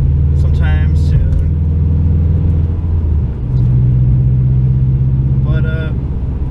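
A warmed-up 2014 Subaru WRX engine running steadily, a loud low rumble with a slight shift in pitch partway through, while a person talks over it.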